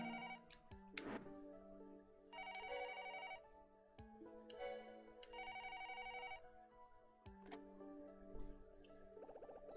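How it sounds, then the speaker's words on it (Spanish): A telephone rings in Another Code: R with repeated bright electronic trills. Several distinct rings are separated by short pauses, and the sound is clear and close in a quiet room. "¿Quién está llamando? El teléfono."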